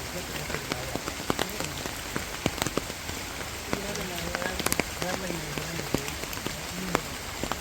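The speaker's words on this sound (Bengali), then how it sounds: "বৃষ্টি" Steady rain pattering on surfaces outdoors in a Bangladeshi village, a dense continuous hiss with scattered sharper drops, while a voice hums or speaks faintly underneath.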